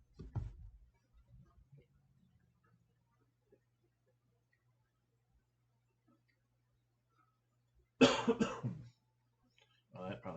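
A person coughs close into a microphone in a quiet room, a short burst of coughs at the start and a louder harsh cluster near the end, with a faint steady hum between.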